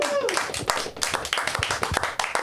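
Comedy show audience clapping, a brisk patter of scattered handclaps over a few seconds, fairly close and loud.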